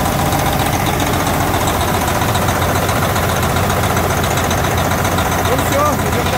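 A cold-started International truck engine idles loudly and steadily close by, with a low, rough rumble and a faint knocking beat, while a voice speaks over it.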